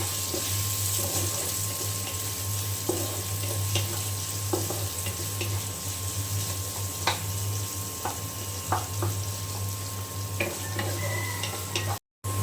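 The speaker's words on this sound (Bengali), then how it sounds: "এখন দিয়ে দিলাম আলু, পেঁয়াজ আর কাঁচামরিচ আমি একসাথে ভেজে নেব।" Potatoes, onions and green chilies fried together in oil after chicken has been cooked, making a steady loud sizzle with intermittent scraping and stirring clicks from close by.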